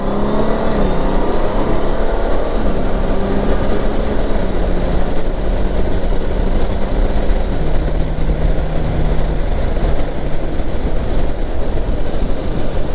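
A Honda Gold Wing with the DCT gearbox rides in sport mode, its engine droning loud and steady throughout, the pitch stepping through gear changes under heavy wind rush, with no one speaking.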